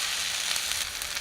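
Spices and grated boiled potato with capsicum sizzle in a hot pan for a savory Indian snack filling, a bright continuous frying hiss with light stirring, close and steady.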